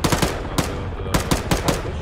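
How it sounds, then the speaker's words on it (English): Automatic gunfire in Arma 3 as a full magazine is emptied: rapid bursts of close, loud shots in quick clusters, with brief gaps between volleys. "Oh no, I just amped the whole mag into a guy."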